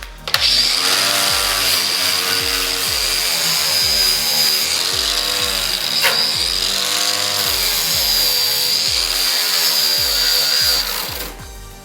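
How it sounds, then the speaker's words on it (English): A steel wire wheel on a power tool strips a part during a Subaru GC8 drivetrain teardown, producing a loud, continuous high-pitched whir and scraping grind with rhythmic pressure swells, close up and without talk. "it just takes 2 seconds with a steel wire wheel"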